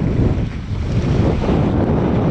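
Strong wet wind buffets loudly and continuously at a coastal key near Chokoloskee, a low rumbling roar with no voices.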